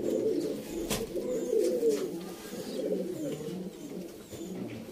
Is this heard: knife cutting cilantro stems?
no